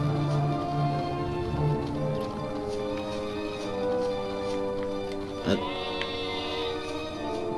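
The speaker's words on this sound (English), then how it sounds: "thank you, sheep." Sheep bleating in the video game Dragon Quest VIII, a soft animal call over steady game music and ambience, with a brief sharper sound partway through.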